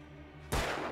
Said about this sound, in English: Shoot, actually shoot him. Actually shoot him now.